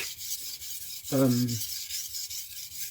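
Knife blade ground steadily during a sharpening class, a continuous close rasping scrape with an even, rhythmic stroke and a brief louder, ringing pass midway, with no talk.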